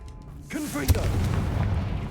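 A Confringo blasting spell in Hogwarts Legacy goes off as one sharp, booming burst that rumbles briefly afterward, just after a short voice.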